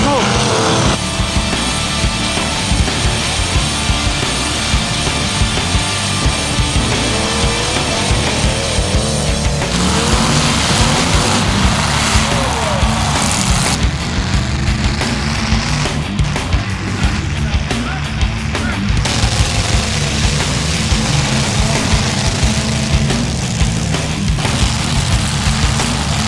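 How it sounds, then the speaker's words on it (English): Race cars running hard on a dusty dirt track, a loud continuous engine roar with passing surges and some tire noise, under crowd and announcer chatter. "A big cloud of dust, but wow, these cars are running good."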